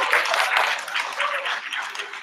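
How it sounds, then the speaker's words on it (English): An audience at the Aid Boston Milan 2017 event gives a round of applause, a dense wash of clapping that swells and dips slightly over a couple of seconds. "Let's have a round of applause."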